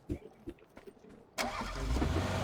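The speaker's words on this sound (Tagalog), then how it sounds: "Ay, sasakyan parating." A vehicle engine in the PUBG video game: scattered faint knocks and brief voices at first, then an engine abruptly roars in and holds a loud, steady, low drone for the final second.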